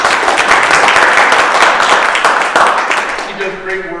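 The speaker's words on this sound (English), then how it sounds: "So, have a round of applause." Audience applause at a political event in Reading, Pennsylvania, a dense burst of clapping that fades out toward the end as a voice begins speaking.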